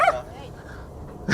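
Several dogs yip, whine and bark excitedly at close range, with short bursts at the start and end and a voice speaking between them.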